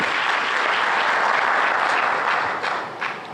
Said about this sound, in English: can we have a round of applause before the Finance Minister answers the question?